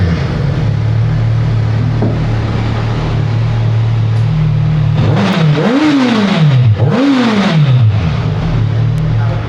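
Suzuki Hayabusa motorcycle on its stock exhaust: a steady idle rumble, then two sharp revs that rise and fall, loud and close.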